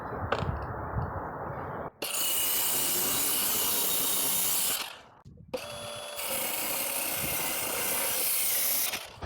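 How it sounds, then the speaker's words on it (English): A power saw cuts half-inch plywood in two loud sustained passes with a brief pause between, whining and hissing close up, no talk. "I'm going to start by cutting a 10-inch piece off of this 24-inch half-inch plywood."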